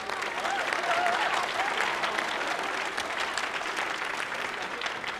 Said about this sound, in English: say everybody to give your support in the stands and your family a round of applause